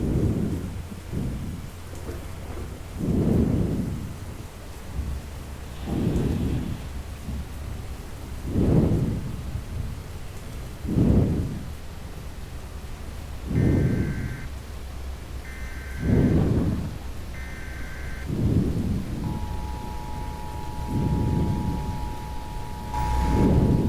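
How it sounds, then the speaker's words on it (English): Thunder from repeated lightning strikes in a violent tornado storm over open fields: deep rumbles roll in every two to three seconds over steady heavy rain, with a few faint electronic beeps in between. "Them lightning strikes are insane."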